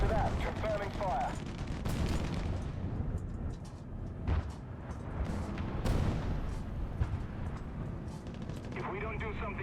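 Artillery fire in the video game Heroes and Generals, with heavy booming shots and gunfire rolling steadily. Voices talk over the barrage.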